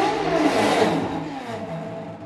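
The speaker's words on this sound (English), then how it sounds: "The reason the arm is producing that horrible sound is because, first, the gearboxes are all running without any lubricant, so plastic is just rubbing on each other" A 3D printed robotic arm runs with its plastic gearboxes unlubricated, giving a harsh, grinding whir that swells and fades over a couple of seconds with a steady rubbing clatter underneath.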